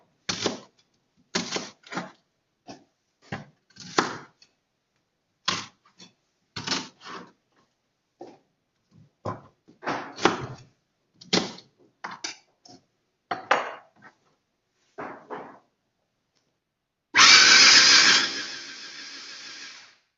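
Four onions whirring in a blender in short repeated pulses separated by silences, ending in one longer continuous loud grind, close and alone.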